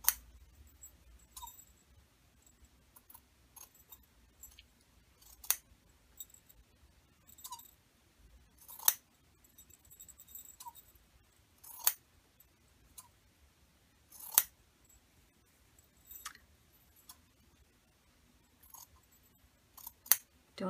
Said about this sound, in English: then I fringed the top of the hat by cutting down